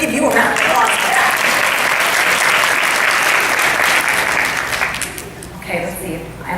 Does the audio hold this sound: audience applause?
yes